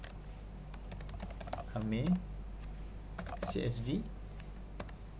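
Typing on a computer keyboard, a quick run of light key clicks under a voice.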